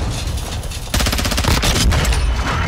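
Dense, sustained automatic gunfire from a Modern Warfare 2 match, opening with quieter rattling before a loud continuous burst of rapid shots hits the player, close and steady to the end.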